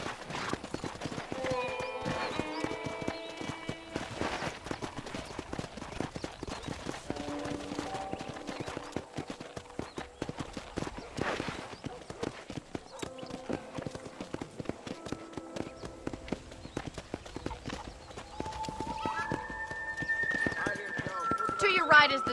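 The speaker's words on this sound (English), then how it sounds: "let's see if you can still ride a horse" A horse's hooves clip-clop at a steady trotting rhythm while riding through a ranch in the Red Dead Redemption video game, close and continuous, with game dialogue and occasional musical tones over it.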